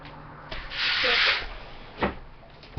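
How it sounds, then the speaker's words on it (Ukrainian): Sanding from neighbours' renovation work, a rough rubbing scrape lasting about a second, followed by a few shorter scraping strokes. "Наші сусіди роблять ремонт."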